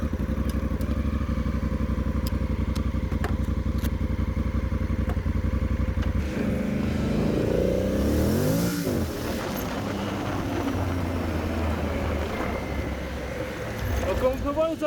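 Pirelli Scorpion Rally STR tyres on a moving motorcycle, a loud steady engine drone and tyre roar that shifts pitch as the bike changes speed, with wind rush, and someone talks over part of it.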